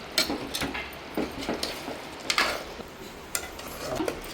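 Curry with paste being stirred in a pot, a ladle scraping and clinking against the metal in irregular, close knocks and scrapes.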